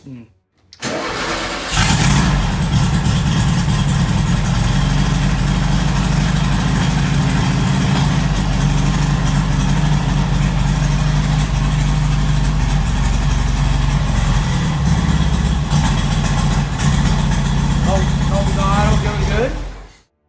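A 1973 VW Super Beetle convertible engine cranks and catches on a cold start without choke, then settles into a loud, steady, throbbing idle that runs close up for the rest of the time before cutting off.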